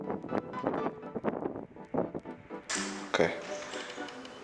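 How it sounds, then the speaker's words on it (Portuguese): Gusty wind buffets the microphone on a rooftop overlooking an old drive-in cinema, with rumbling bursts under a talking voice, then a louder broadband roar surging in toward the end. "Está muito vento."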